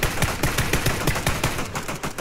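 Rapid automatic gunfire from PUBG, a steady burst of close, loud shots repeating in quick rhythm for about two seconds with no speech.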